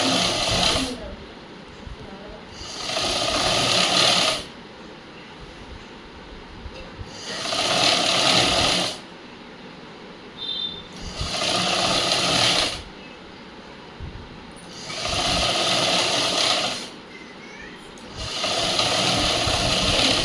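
A sewing machine stitching a cut blouse runs in about five steady whirring bursts of two seconds or so, each separated by a pause while a voice speaks quietly.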